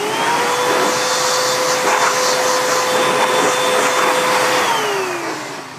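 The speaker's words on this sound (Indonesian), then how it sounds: "Selanjutnya kita kompresor juga menggunakan vacuum cleaner yang kita rubah sebagai kompresor." A vacuum cleaner converted into an air blower runs loud and close while cleaning out a PS3 console, a steady high whine that tapers off near the end.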